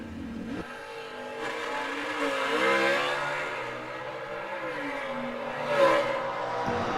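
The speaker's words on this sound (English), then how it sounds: "The big Hemi's coming charging." A Hemi-powered drag car at an old-time drag racing event accelerates down the strip, its engine note rising and shifting as it charges past, loud with crowd-area ambience and no talk.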